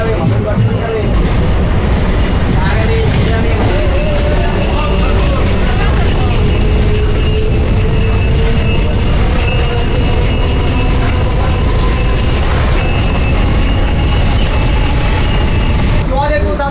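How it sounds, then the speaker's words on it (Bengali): A Sealdah–Gede suburban local train runs steadily in heavy rain, with a loud continuous rumble of wheels on rails and a high, sustained metallic squeal riding over it for the whole stretch, heard from inside. "নৈহাটি ছেড়ে ট্রেন এবার চলেছে হালি শহরের দিকে।"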